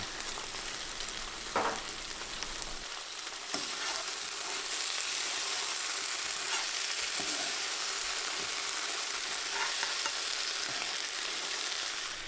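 Tofu and green beans stirred through a thickening sauce in a hot pan, with a steady close sizzle broken by a few scraping stirs and clinks of the utensil.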